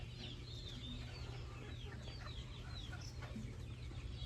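Month-and-a-half-old Onagadori chicks cluck and cheep steadily in a dense flock, a busy continuous chatter of small calls over a constant low hum.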